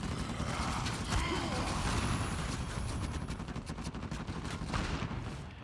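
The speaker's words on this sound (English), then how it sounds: "You gotta shoot him with these weird pistol things" Rapid bursts of pistol fire from a third-person shooter set in Uncharted 4's survival mode, sharp cracks repeating in quick succession over mechanical clatter, fairly close and steady throughout.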